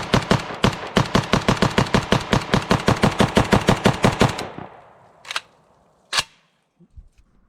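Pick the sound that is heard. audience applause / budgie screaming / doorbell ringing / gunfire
gunfire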